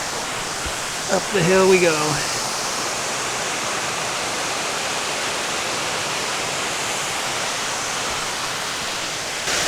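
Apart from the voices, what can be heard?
waterfall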